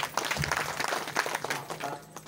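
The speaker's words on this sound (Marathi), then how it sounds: "टाळी वाजवत आहे" Audience hands clapping steadily through a devotional kirtan gathering, a dense, continuous patter of many claps at moderate distance with no voices over it.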